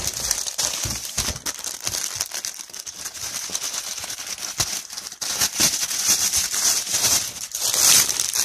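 A parcel package from AliExpress is torn and unwrapped up close, with steady crinkling and rustling of plastic wrapping and paper in irregular bursts.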